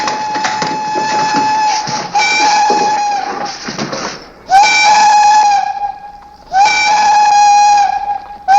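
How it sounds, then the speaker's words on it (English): The Tombstone mine's 5 o'clock whistle blows in loud, sustained steam-whistle blasts, three long ones with short gaps between, set in an old Western mining town. "Checked my watch with the 5 o'clock whistle at the Tombstone mine."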